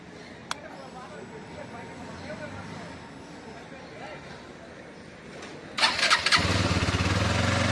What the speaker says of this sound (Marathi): तोपर्यंत कोल्ड स्टार्ट करून घेऊया.